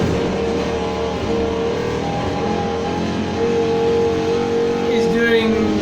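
A 2017 Mercedes-AMG G 63 driving in the video game Need for Speed Heat, its engine holding a steady, loud mid-pitched drone with slight shifts in pitch as it is pushed off-road, with someone talking over it throughout.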